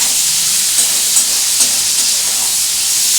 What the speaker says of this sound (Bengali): এইটা দিয়ে আমি একটু ভালো করে নাড়াচাড়া করছি।